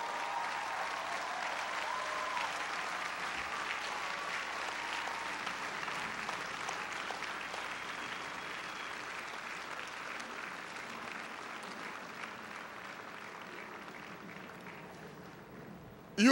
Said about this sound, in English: give those folk a round of applause